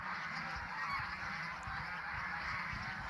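Geese honking at a goose farm, faint and somewhat distant over a steady background hum, with no talking.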